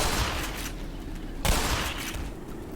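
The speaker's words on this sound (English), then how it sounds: "Oh, that is a turret." Automated turret gunfire in the Black Mesa video game, a continuous loud volley of rapid shots with a sharp burst about halfway through, set against dense game noise.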